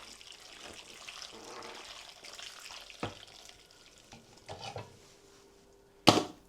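Boiled water is poured over chicken for soup, splashing in uneven bursts of liquid noise, with a few louder knocks and a sharp clatter near the end.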